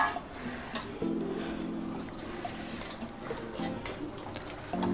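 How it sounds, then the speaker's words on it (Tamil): Water poured from a small glass into a plate while cooking country-chicken biryani, heard as short splashing bursts that start and stop a few times, close and fairly clear against a soft kitchen background. "இப்போ இந்த பிளேட்லேயே நான் 1 சின்ன கிளாஸில் 1 கிளாஸ் தண்ணி,"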